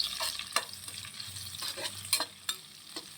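Onions frying in a pan for potato curry: a quiet, steady sizzle broken by several sharp scraping stirs of a spoon against the pan, close up with no talking.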